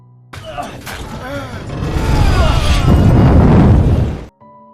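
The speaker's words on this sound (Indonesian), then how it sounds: "bus pun itu meledak dan membakar bus itu sampai hangus" A loud roaring blast as a bus explodes in a film, swelling and rumbling for several seconds, building to a heavy burst before cutting off abruptly.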